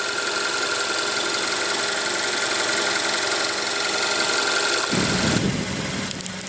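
A 2015 Kia Soul's 2.0 L four-cylinder engine runs steadily at close range with a smooth, continuous hum, then near the end the note roughens and rises briefly as the engine sound shifts.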